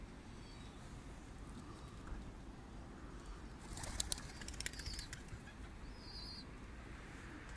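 Diyarbakir white pigeon flapping its wings in flight, a faint, distant flutter over steady outdoor background hiss, with a brief cluster of wingbeats in the middle and a few soft chirps.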